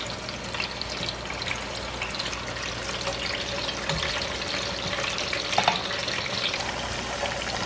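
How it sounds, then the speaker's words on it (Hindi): T-bone steaks frying in a deep layer of hot oil, a loud, dense, steady sizzle and crackle that runs unbroken and close throughout. "चलें जी, ऑयल गर्म हो गया। अब ये मैं इसमें डाल रही हूँ स्टेक्स।"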